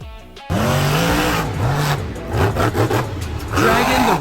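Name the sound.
monster truck Dragon engine revving at a show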